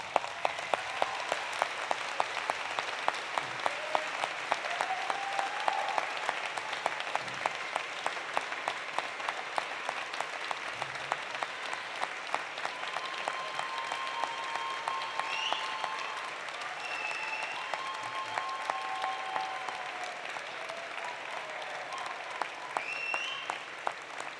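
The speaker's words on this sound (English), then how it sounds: "stand up and give them a huge round of applause" A large graduation audience at a university science convocation keeps up a long, steady round of applause, moderately distant and unbroken, with faint cheers or voices now and then.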